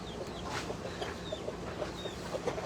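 Laced Cochin hens with fully feathered feet cluck softly and repeatedly in a small backyard flock, short chirpy notes scattered over steady low farmyard background noise.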